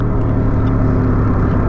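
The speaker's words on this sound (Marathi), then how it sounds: "आता आम्ही मस्त 80-90 गाडी पळवतोय" A car driving fast at 80 to 90 on a snowy mountain road in Ladakh, heard as a loud, steady engine and road drone with wind rush, close and continuous, with no voices.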